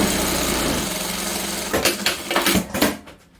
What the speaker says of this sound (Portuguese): E vou fazer outra costura